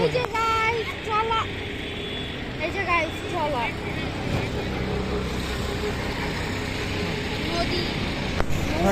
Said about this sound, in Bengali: এই যে ট্রলারটা আসতেছে